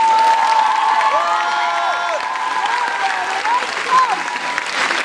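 Audience applause for the musicians accompanying a choir at an end-of-season choral recital: sustained, loud clapping mixed with cheering voices that carries on throughout.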